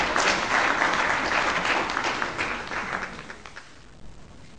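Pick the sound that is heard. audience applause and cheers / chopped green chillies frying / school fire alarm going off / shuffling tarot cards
audience applause and cheers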